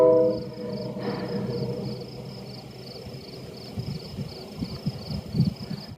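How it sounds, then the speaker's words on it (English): A train rumbles somewhere far off along a wooded stretch of the Appalachian Trail near St. John's Ledges, a low, faint drone with a thin high tone above it, joined later by soft close rustling. "And you can hear the train."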